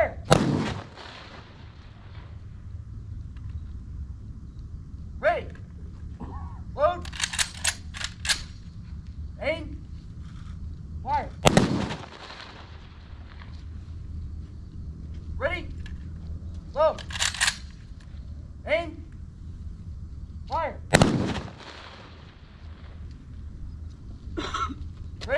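Ceremonial rifle volleys fired as a salute at a memorial motorcycle ride event, three sharp loud cracks spaced roughly ten seconds apart, with commands called out and quiet crowd noise between them.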